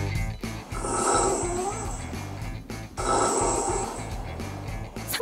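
A person snoring in sleep on a home recording, with two long, loud, rasping inhalation snores separated by a brief pause, close to the microphone with a rough, vibrating quality.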